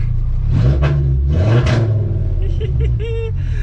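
A Volkswagen Golf 3 with a swapped VR5 engine hums and revs steadily as it moves, with a low rumbling drone throughout and some clatter; a voice briefly sounds over it.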